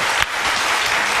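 A television studio audience breaks into brief, dense applause that fills the whole short moment at close, loud level with no voices over it.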